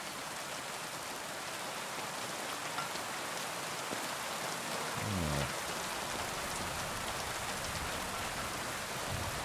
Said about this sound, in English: And it rains a lot in this part of town.